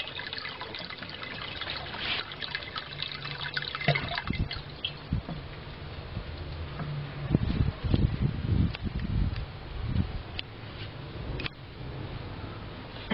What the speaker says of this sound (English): You can see the water flowing into this coagulation and flocculation tank.